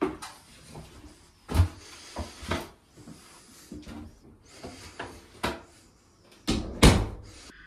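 A wooden cupboard door fitted with new boarding is repeatedly opened and closed, giving a series of sharp knocks and thuds with quieter creaks and shuffles between them, close up.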